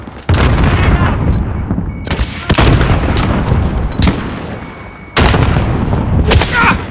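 Frag grenade blasts and gunfire in Call of Duty: Modern Warfare multiplayer on PS4: loud, close booming bursts land repeatedly over a constant din of battle, with sharp cracks between them.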